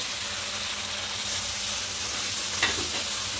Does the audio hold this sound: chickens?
no